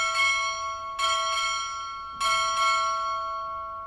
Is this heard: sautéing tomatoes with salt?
no